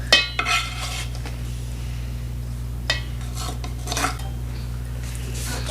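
Sausage goes into a pan with a few clanks and scrapes of utensils against cookware, sharp clattering hits at the start and scattered bumps later over a low steady hum, close and alone.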